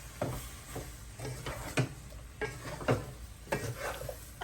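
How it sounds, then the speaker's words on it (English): Pre-cooked shrimp and broccoli stirred together in a pan, with a series of distinct scraping and clinking strokes of a utensil against the pan at an uneven rhythm over a faint background sizzle. "Now stir everything together."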